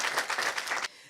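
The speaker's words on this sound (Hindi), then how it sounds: "बजाइए जोरदार तालियां" Audience applause at an Independence Day event, a dense burst of many hands clapping that cuts off abruptly near the end, leaving quiet.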